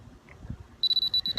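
A laser level receiver gives a series of short, high-pitched electronic beeps in quick succession over a faint background, outdoors on a lawn during drainage work.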